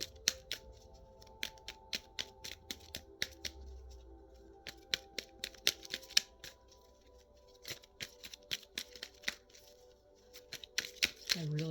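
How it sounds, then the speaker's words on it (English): A deck of tarot cards is shuffled up close, sharp riffling snaps and soft slides repeating in an uneven rhythm over a quiet, faintly humming room. "I really shuffled these cards too earlier. They just want to keep being shuffled and shuffled."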